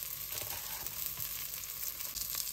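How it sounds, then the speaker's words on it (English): Chole stirred in a hot pan with the flame just turned off, a soft continuous sizzle with faint scraping of the spoon, quiet and steady with no talking. "Give this a mix."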